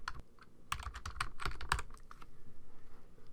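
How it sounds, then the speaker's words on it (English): Typing "Happy Halloween" on a computer keyboard: a run of close, crisp key clicks in an irregular rhythm over about two seconds, with one heavier keystroke near the end, then quiet. "Let's type in Happy Halloween."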